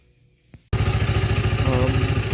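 A Kymco Hipster 125 scooter engine, just fitted with a cleaned carburetor, fires up after a quiet pause and settles into a loud, steady, even idle thrum close by.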